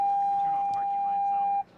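A steady electronic warning tone from a 2023 Toyota bZ4X electric car, sounding because the lights are on, drones for over a second and a half, then cuts off abruptly.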